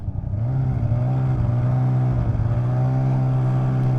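A 2024 Polaris Indy VR1 Boost snowmobile engine drones on a trail, a loud steady hum that swells briefly at the start and holds a constant pitch with no talking.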